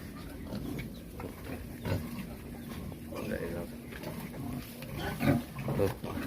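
Pigs on a small farm grunt and snort intermittently at close range, with human voices talking over the low, muffled farmyard noise.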